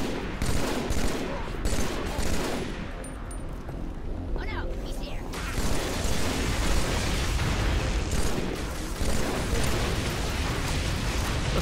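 Sustained battle gunfire in Halo 3, with dense rapid bursts and explosive booms layered continuously, loud and close, while a voice talks over the chaos.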